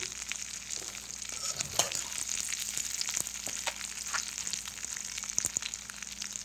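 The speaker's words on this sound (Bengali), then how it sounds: "একটু ফোড়ন দিয়ে দিচ্ছি, তেজপাতা, শুকনো লঙ্কা আর কালো জিরে" Bay leaf, dried red chili and nigella seeds tempering in hot oil for an ilish fish-head and ash gourd dish, giving a steady close sizzle with small crackles and pops throughout.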